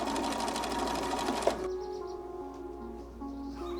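Sewing machine stitching an invisible zipper into fabric panels: a loud, rapid, even mechanical chatter for about a second and a half that stops abruptly, leaving a faint hum and light handling noises.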